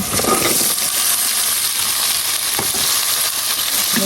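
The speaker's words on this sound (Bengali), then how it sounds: "আর এবার সবজিটা দিয়ে দেবো, সবজিটা ঢেলে দেবো এর ভিতরে" Bottle gourd poured into hot oil with onion and chili, a loud, close, continuous sizzle and fry hiss holding steady throughout with faint clinks, no talking.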